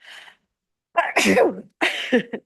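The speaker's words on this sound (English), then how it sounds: "I feel sneezing." A single close, loud human sneeze, preceded by a short sharp inhale and followed by a second explosive burst, then silence.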